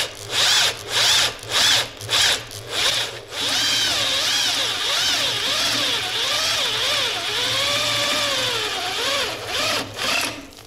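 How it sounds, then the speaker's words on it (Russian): An electric drill whines in short bursts, then runs steadily with its pitch rising and falling under load as it bites into a metal fitting on a workbench, loud and close. "Высверливаю штуцер"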